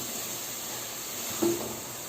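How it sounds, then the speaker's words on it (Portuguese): A steady, soft sizzle of onions frying over low heat in a pan, a continuous gentle hiss with a brief faint clink partway through. "Em fogo baixo eu vou fritar essa cebola por aproximadamente aí uns 8 minutos."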